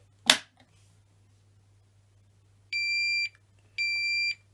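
A toy fire alarm with a break-glass button: one sharp click as the button is pressed, a short pause, then two bright electronic beeps about half a second each, in a quiet room.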